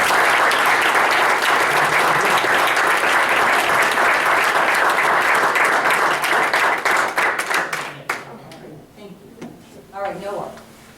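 A school board meeting audience applauds the students for their accomplishments with a loud, steady burst of clapping that gradually thins into a few scattered claps over about eleven seconds.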